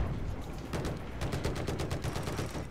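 Automatic gunfire in Battlefield 4 in Singapore, a steady run of sharp rapid shots that picks up in the second half, close and loud over a rumbling battlefield background.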